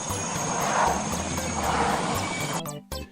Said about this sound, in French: un hélico qui arrive comme ça dans une base ennemie